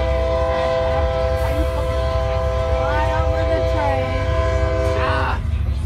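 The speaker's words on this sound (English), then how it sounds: "what if there's a train and here comes this eastbound" An eastbound BNSF train rolls past in Spokane Valley, a loud sustained rumble with squealing wheels and rail noise close by, and a short horn-like tone near the end.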